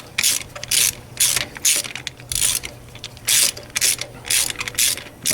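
A ratchet wrench loosens the spark plugs on a 2013 Cadillac ATS 2.0T, giving about a dozen short, loud bursts of clicking pawl separated by brief pauses, up close and with no talking.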